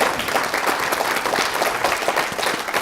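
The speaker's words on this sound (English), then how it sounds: "Could you give them one more round of applause?" An audience at an afternoon breakout session gives a steady round of applause, dense clapping that continues at the same level throughout without any voices.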